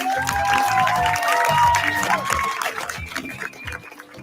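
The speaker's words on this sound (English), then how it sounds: "Big round of applause please for those two." A round of applause for the winners of an outdoor worm charming contest, clapping and some cheering from a small crowd, mixed with a voice talking over it before it tapers off.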